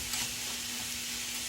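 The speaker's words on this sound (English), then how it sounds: "So what I'm doing right now is I'm frying it up." Hamburger meat frying in a pan for homemade spaghetti, a steady close sizzle and crackle with a faint constant hum underneath, no talking.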